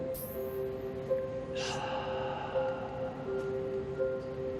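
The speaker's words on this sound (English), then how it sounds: "Take a nice deep breath in." One deep breath drawn in through the nose, a soft rushing inhale rising briefly, set against a faint steady background hum.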